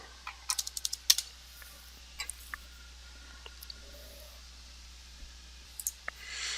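Keys clicking on a computer keyboard as a search term is typed, in a short burst of quick taps followed by a few scattered later presses, faint and close over a quiet room hum.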